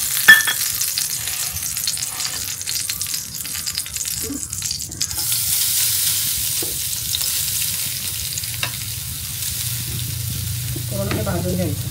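Freshly scraped coconut roasting and being stirred in a hot pan while Ganpati festival sweets are prepared, giving a steady soft sizzle broken by occasional scrapes of the spoon, with no talking.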